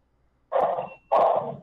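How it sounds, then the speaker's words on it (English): A dog barks twice in quick succession, loud and close, with a short gap between the two harsh bursts, heard against an otherwise quiet background. "your dog is being really loud in the background"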